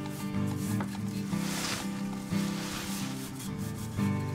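Grout on a mosaic ceramic flower pot is rubbed and polished by hand, giving a steady, close scraping and sanding sound in repeated strokes with no voices.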